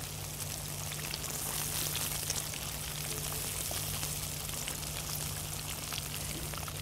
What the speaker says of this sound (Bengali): আমাদের মাছ ভাজা হতে হতে